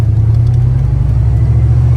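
A boosted Foxbody Mustang engine, running 15 psi on a stock bottom end, idles with a low, steady rumble from inside the car, constant and fairly loud throughout.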